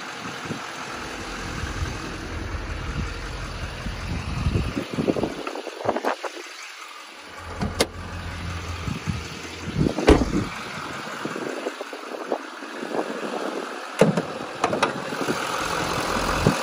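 A stock LML Duramax diesel in a 2014 Chevrolet Silverado 3500HD 4x4 regular cab idles with a low steady rumble, heard close amid gusty wind noise on the microphone and occasional knocks.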